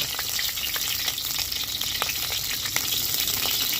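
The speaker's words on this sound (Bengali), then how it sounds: "পুরো এরকমভাবে ভেজে নিতে হবে একদম ভালো করে লাল করে" Cauliflower frying in oil until browned, a steady close sizzle with small crackles and occasional clicks of stirring throughout.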